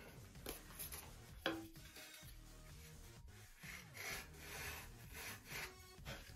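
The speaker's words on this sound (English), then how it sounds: "I need to trim a little bit more here, or sand a little more." Balsa wood wing sheeting on a .60 size Top Flite P-60E Warhawk model airplane being sanded, with quiet, close rubbing strokes coming in short irregular passes.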